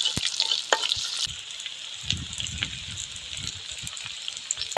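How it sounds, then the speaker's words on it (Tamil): Onions fry in hot oil until golden, giving a steady bright sizzle with spoon scrapes in the pan and a brief low rumble in the middle. "வெங்காயம் பொன் நிறமா வறுக்கணும் தான் வாசனையாக இருக்கும்"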